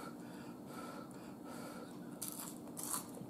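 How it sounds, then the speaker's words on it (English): Crunchy fried food, French fries and fried chicken thighs, bitten and chewed close to the mic, with soft crackling crunches and a couple of sharper bites near the end, quiet overall. "Y'all hear that crunch?"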